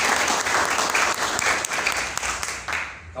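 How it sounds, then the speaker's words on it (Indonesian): A crowd at a Pemuda Pancasila district meeting breaks into loud, sustained applause, many hands clapping densely and close by before it begins to fade near the end. "aplaus untuk kader PAC Kebasen."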